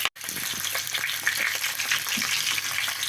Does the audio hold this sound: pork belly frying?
yes